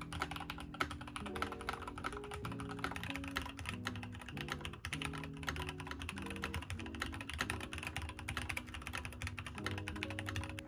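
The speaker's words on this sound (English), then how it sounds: "I'll do a type test so you guys can hear how it sounds." Rapid, steady keystrokes on a light mechanical computer keyboard during a typing test, clicking close and continuous over soft background music, with no talking.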